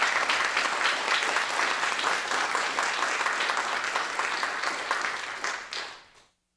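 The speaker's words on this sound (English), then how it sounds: "Please give them a round of applause." An audience applauds armed forces members at an event about military service in Afghanistan, producing dense, sustained clapping that holds steady and then fades out at the end.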